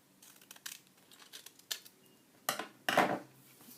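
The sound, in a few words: cutting card with scissors for a shaker tag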